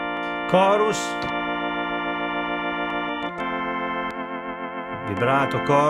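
A Crumar Mojo Classic organ plays sustained chords through its chorus effect, a steady shimmering tone with a chord change midway and brief bursts of a voice-like sound at the start and end.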